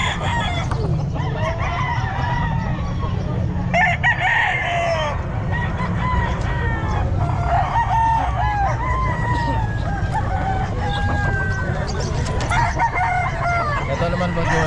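Young stag gamecocks crow repeatedly at a busy pet market, several birds overlapping at close range, with clucking and faint chatter from people nearby.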